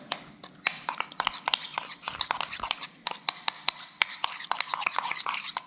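Raw burger meat being hand-mixed with salt, pepper and cayenne for griddle smash burgers: a steady run of soft, wet squishing and slapping pats, close and fairly quiet, with no talk.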